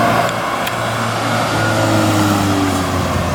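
A 2017 Volkswagen GTI with a 6-speed manual gearbox, heard from inside while driving, its engine giving a steady, loud mid-range drone with a sustained rising tone and constant road rumble underneath.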